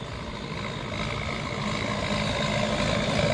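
Massey Ferguson 6712 tractor, a 120-horsepower farm tractor, idling in a field among other ploughing tractors, a steady low diesel rumble that grows slightly louder and nearer over a few seconds, with no talk.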